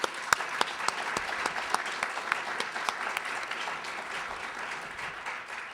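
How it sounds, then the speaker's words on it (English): An audience applauds at a business forum on energy after a talk by an Edison International executive. A loose round of clapping with sharp individual claps early that thins and softens toward the end. "Another round of applause."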